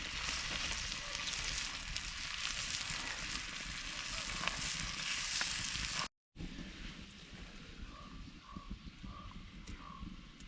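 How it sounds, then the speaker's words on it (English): Steady, close sizzling of gnocchi frying in butter in a pan outdoors at a winter camp, a constant crackling hiss with a brief cut partway through. "butter and seasoning sizzling"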